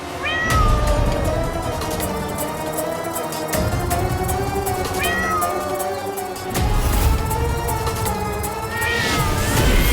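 Several cats meow over one another, a dense, loud chorus of overlapping, wavering cries that runs on without a break from start to finish.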